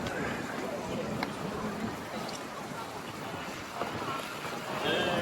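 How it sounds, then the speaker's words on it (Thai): Cold wind gusting steadily outdoors on a snowy day in Itaewon, Seoul, a broad continuous rush close to the microphone, with faint voices beneath. "ลมเย็นมาก"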